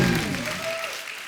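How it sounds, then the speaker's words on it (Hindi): Audience applause at a live show honouring a singer: a dense, loud burst of clapping that is already under way and tapers off within about a second. "एक बार जोरदार तालियां"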